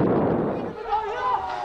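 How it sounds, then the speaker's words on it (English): A thunderous explosion during overnight strikes in Gaza booms loudly for a moment, then trails off into a rolling rumble while a thin whistling tone rises in the background. "Overnight, a thunderous explosion lights up the sky."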